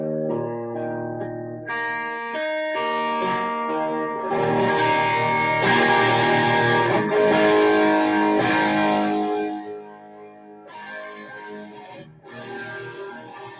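An electric guitar played through an EVH 5150 Iconic amp on its clean channel with reverb, ringing chords with a gritty, slightly overdriven edge, loud and sustained, fading toward the end.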